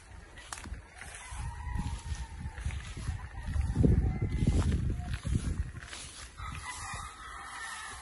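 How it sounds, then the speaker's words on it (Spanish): A rooster crows in the middle distance over a rumbling, noisy background, with some low thumping and faint clucking-like sounds around it. "Se ha jalado un gallo ya."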